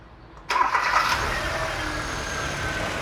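A car engine turns over and catches, then settles into a steady, close idle hum for the rest of the clip.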